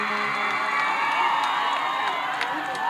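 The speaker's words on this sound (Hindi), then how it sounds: "जब तालियों की गड़गड़ाहट से आप स्वागत करोगे तभी छोटे भाई पवन जी बोलेंगे" A crowd at a public gathering welcoming Pawan Singh, a steady roar of cheering, whoops and clapping that holds loud and unbroken throughout.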